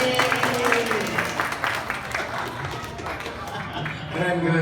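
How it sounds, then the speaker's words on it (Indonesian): A crowd claps and cheers in a lively burst of applause that continues steadily throughout, with voices mixed in. "tepuk tangan buat kalian"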